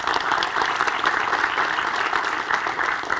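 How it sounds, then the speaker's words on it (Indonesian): Short burst of steady audience applause during a televised debate on a criminal code bill, dense clapping close and loud throughout with no talk over it. "Tepuk tangan dulu."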